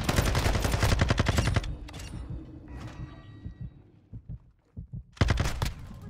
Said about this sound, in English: There's no way you're trying to shoot me from that far.